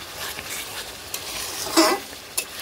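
Whole garlic cloves sizzling in hot oil for a duck curry, stirred with a spatula that scrapes and clinks against the pan in a few brief strokes over steady soft frying, close up.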